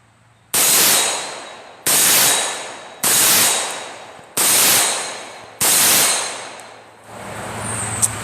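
A 300 Blackout rifle firing at an outdoor range: five loud, sharp shots spaced about a second apart, each followed by a decaying echo, then a quieter mechanical rumble.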